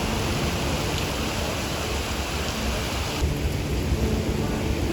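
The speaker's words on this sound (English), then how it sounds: "the fact that it's raining right now, my entire bedroom is being wet, so I need to close my window" Steady rain falls outside an open bedroom window in Spain, a continuous dense hiss with a low rumbling undertone from thunder, with no voices.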